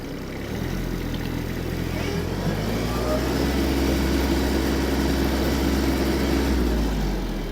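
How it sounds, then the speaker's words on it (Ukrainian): Kubota GB-15 Japanese mini tractor engine held at full throttle in second gear, a loud, steady, close droning roar that stays even throughout with no pauses. "Газ в пол. Максимальна швидкість на другій передачі."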